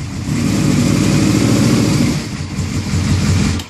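A 2006 Yamaha Road Star motorcycle engine runs close by, a loud, steady, throbbing low rumble that holds evenly and then cuts off abruptly at the end.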